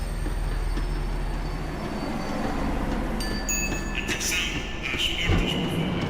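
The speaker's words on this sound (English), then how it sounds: "The tram was slowing down, and I'd only just gotten on board" An in-game tram in Max Payne 3 rolls along its rails and slows down, a steady low rumble with metallic wheel squeal and screeching rising in the last few seconds, loud and close.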